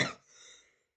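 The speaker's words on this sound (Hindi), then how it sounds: "सॉरी, थोड़ी सी खांसी है मेरे को।" A single short cough from a man teaching C++ pattern programming, quiet and close, trailing off quickly into silence.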